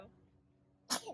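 A single short, sharp sneeze bursts out near the end of a quiet stretch, close and fairly loud against faint room tone.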